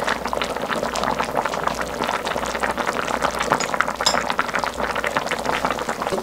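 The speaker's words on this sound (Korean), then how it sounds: "이렇게 닭이 푹 익을 동안 이렇게 천천히 뭉근하게 오래 끓여줘야 돼요" Steady bubbling of chicken soup with browned rice simmering slowly in a heavy pot on low heat, a continuous dense gurgle with small pops, fairly close and unbroken throughout.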